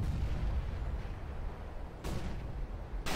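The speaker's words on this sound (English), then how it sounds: "Throwing a grenade. Top mid." Grenade detonating in Counter-Strike on the Dust 2 map, thrown toward top mid: over a steady rumble of game noise, a loud, sharp blast bursts out near the two-second mark, and another abrupt crack hits right at the end.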